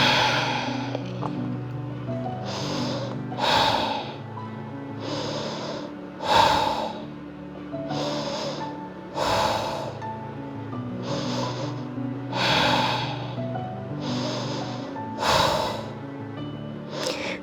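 Slow, deep breaths in a held yoga pose, about ten breathy exhales at a steady rhythm roughly every one and a half seconds, close and clear over quiet background music.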